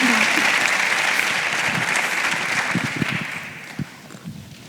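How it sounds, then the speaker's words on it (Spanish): Congress audience applause welcoming a speaker on biohistory, starting as full, dense clapping that gradually thins out into a few scattered claps and room noise. "un aplauso para él"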